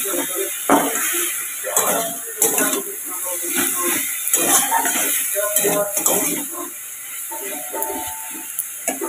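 Nuts are tipped into leafy greens cooking in a pan, with steady sizzling, hissing and bursts of stirring and scraping against the pan, while a person talks over it.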